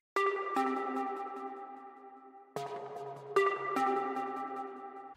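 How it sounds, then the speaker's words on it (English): Synth pluck from Serum in an FL Studio hard trap beat, playing sharp-attack plucked notes in a repeating melodic pattern with ringing tails, loud and alone. "all we got is this pluck from Serum."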